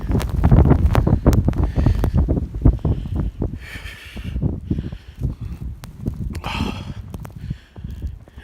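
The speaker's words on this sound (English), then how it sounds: "hear that wind?" Strong wind during a snowstorm gusts hard against the microphone in loud, uneven rumbling bursts, with some rustling and brief quieter gaps between blasts.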